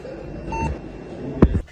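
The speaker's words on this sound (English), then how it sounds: "beep sound. The RAM is slightly bad." A desktop PC that will not boot gives short electronic beeps signalling faulty RAM, a faint tone followed by a sharper burst near the end over a low hum.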